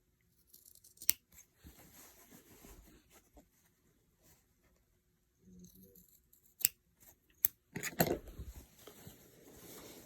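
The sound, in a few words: scissors cutting lines in a paper flute mask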